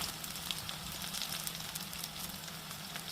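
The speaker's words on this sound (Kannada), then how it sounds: "ಜೀರಿಗೆ ಈರುಳ್ಳಿ ಕರಿಬೇವಿನ ಎಲೆಗಳನ್ನು ಹಾಕಿ ಸೌಟಿನಿಂದ ಕೈಯಾಡಿಸಬೇಕು" Cumin, onion and curry leaves sizzling steadily in a hot pan while a ladle stirs them, a dense even crackle with no voices.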